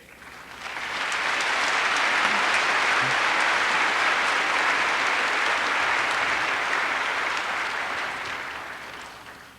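Audience applause in a church setting following a personal testimony, a dense, steady wash of many hands clapping that swells in quickly, holds loud for several seconds and tapers slightly at the end, with no voices over it.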